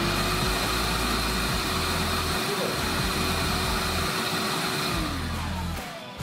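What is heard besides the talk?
Kärcher HV 1/1 BP cordless handheld vacuum cleaner running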